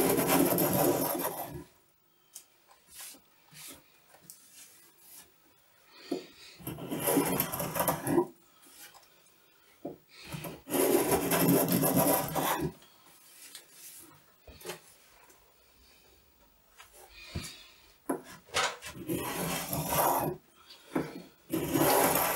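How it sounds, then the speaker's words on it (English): A dull spokeshave needing sharpening shaves a wooden template during a Scandinavian credenza build, giving close, rough rasping strokes in repeated bursts separated by short pauses. "By the sound of that spoke shave, it needs sharpening."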